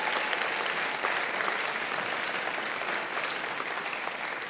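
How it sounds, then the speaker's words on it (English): Audience applause at the closing of a London roadshow event for aspiring YouTube creators, a dense, steady wash of clapping from a large crowd that holds at even loudness throughout. "please give them a round of applause"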